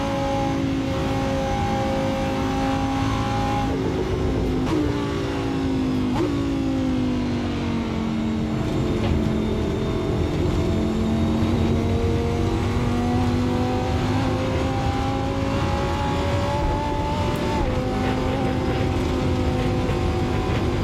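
A Lamborghini race car engine in Assetto Corsa howls loudly and steadily, its pitch rising through the gears, dropping sharply at each upshift and climbing again across a long run.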